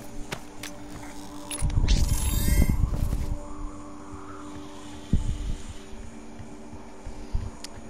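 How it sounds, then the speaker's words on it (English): A vacuum cleaner drones steadily and faintly in the background of a room while DOOM gameplay sounds play over it, with a few louder noisy bursts. "If you guys can hear anything in the background, that's the vacuum cleaner."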